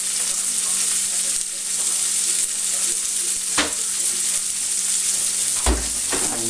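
Salmon fries in a pan with a loud, even sizzle up close, broken by a couple of sharp clatters of a utensil or the pan; no one speaks.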